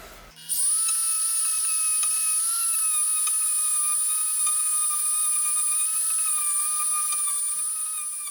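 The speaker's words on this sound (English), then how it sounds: "if I wire wheel the paint off of the carriage bolt threads" A wire wheel spins against painted carriage bolt threads from a garage door roller, giving a loud, steady high-pitched whine that starts abruptly and holds unbroken for about eight seconds.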